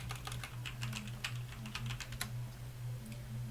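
Rapid, light clicking of keys as a short terminal command is typed on a computer keyboard, close by and fairly quiet over a steady low hum.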